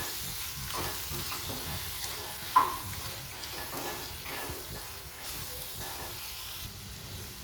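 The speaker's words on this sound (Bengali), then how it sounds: "এবার ভালো করে আলুর সাথে টমেটোর সাথে মশলাটাকে মিশিয়ে দেবো" Spices are stirred into potatoes and tomatoes frying in a pan, a soft steady sizzle with gentle scraping strokes and one small clack, fairly faint and with no talk.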